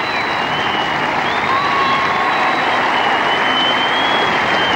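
A cricket crowd at Old Trafford applauds in a dense, loud, sustained wash of clapping that holds steady throughout, with no voices standing out.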